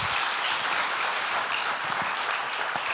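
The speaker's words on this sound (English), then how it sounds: "a round of applause for CEO and founder" Conference audience at a blockchain event breaks into dense, continuous applause for a company's CEO and founder, many hands clapping at once, steady and moderately loud with no talk.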